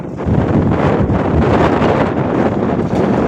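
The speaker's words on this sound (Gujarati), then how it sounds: "પવન એવો જોરદાર હાલે છે." Loud, constant wind buffets the microphone with a heavy roar, steady and close for the whole stretch.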